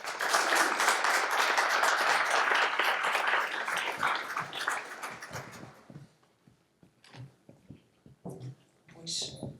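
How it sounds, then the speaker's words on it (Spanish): An audience at a regional psychology conference claps loudly and densely for about five seconds, then the applause thins out and fades, leaving scattered rustles and a few faint sounds. "Así es que, un aplauso."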